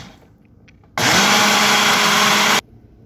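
Blender whirring through 16 ounces of water for a smoothie, switching on abruptly to a loud steady high-pitched roar for under two seconds, then cutting off to quiet.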